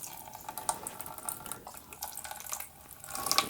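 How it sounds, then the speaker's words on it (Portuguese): A glass of water poured over propolis gel at a Mandaçaia bee lure, giving a soft continuous splashing and trickling with small drips, moderately quiet and heard alone. "vamos pegar um copo de água aqui e vamos despejar para a gente estar vendo"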